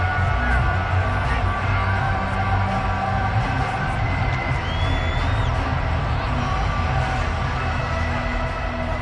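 Crowd noise from the Madden 23 football video game fills the stands while a replay is watched, with a loud, unbroken roar of shouts and cheers and occasional whoops throughout.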